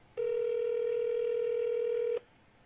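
A single steady telephone ring tone, placed as a call to reach an auction winner, sounds clearly for about two seconds and then stops, with no talk over it.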